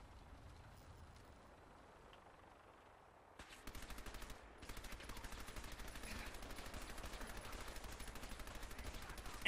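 Rapid automatic gunfire in Fallout 4 begins after a few seconds of quiet ambience and continues as a fast, even stream of shots, fairly faint and distant in the mix.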